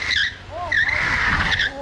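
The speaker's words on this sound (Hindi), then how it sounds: "अब आएगा ड्रिफ्ट एकदम बढ़िया वाला" Motorcycle drifting with a loud tire skid, a harsh squealing screech that rises and falls in short bursts over engine noise, close by and without talk.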